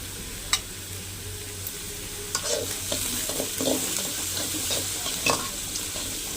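Curry leaves and coriander temper in hot oil with steady frying hiss and crackle, punctuated by a few sharp pops and the scrape of stirring, while making rice kozhukattai.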